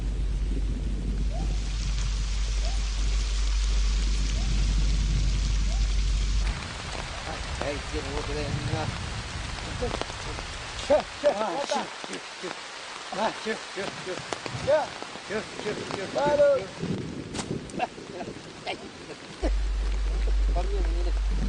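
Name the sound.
heavy rainstorm in the Yasuní jungle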